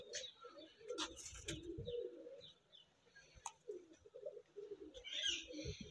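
Pigeons fed chickpeas coo softly in repeated low, throaty phrases, quiet and close, with faint chirps and small rustles between the calls.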